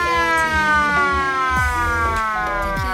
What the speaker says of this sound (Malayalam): ട്രെയിൻ സ്റ്റാർട്ട് ചെയ്ത് നമ്മൾ പോകാനുള്ള വാണിംഗ് തന്നിട്ടുണ്ട്